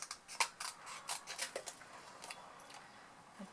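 Scissors snip around a paper sentiment with small, crisp cuts in an irregular run, close and quiet, thinning out toward the end.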